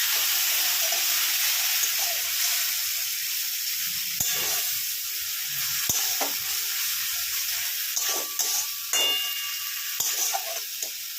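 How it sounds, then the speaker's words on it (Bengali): Spice masala with Kashmiri chilli powder and a splash of water being sautéed in a pan, a steady close sizzling hiss broken by a few sharp scrapes and clinks of a spoon, without any speech. "দিয়ে দিচ্ছি কাশ্মীরি লঙ্কার গুঁড়ো, আবারও অল্প জল দিয়ে কষিয়ে নেব।"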